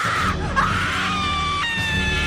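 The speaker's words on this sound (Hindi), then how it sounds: "इतने में ही पीछे रूम से एक चीख आती है।" A sustained, wavering scream rings out from a hotel room in a haunted-hotel horror tale, loud and close, holding a high pitch and then breaking into shifting cries for about two seconds with no talk.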